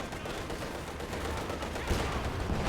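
Maxim machine gun in Company of Heroes keeps up sustained suppressive fire on Grenadiers, a dense steady rattle of rapid shots blended with battlefield noise.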